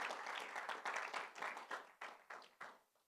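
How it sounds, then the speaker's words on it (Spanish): A church congregation at a Sunday service applauds, the dense clapping first steady and then thinning into a few separate, fading claps. "denle de nuevo un aplauso fuerte al Señor"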